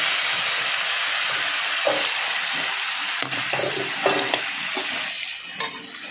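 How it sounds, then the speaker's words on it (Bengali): Spice paste with bay leaf, dried red chili and black cumin sizzles steadily in hot oil while a spoon scrapes and stirs the pan in occasional soft knocks. "এবার মশলাটা ভালো করে নাড়াচাড়া করে নিচ্ছি।"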